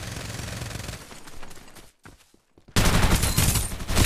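Gunfire in the video game Farlight 84, with dense, rapid bursts of shots, a short near-silent pause and then a sudden, louder volley of continuous fire.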